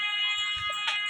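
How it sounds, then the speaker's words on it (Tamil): A steady electronic wailing siren tone in a Roblox tsunami game holds for about a second with a brief brighter burst near the end. "இது சங்கு சத்தம் கேட்குது."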